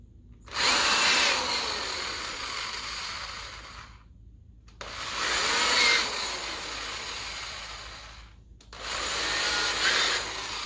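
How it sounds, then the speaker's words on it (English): A power drill bores holes in three long bursts of several seconds each, with short quiet gaps between them, loud and close with no talking. "I'll go ahead and drill the rest of these."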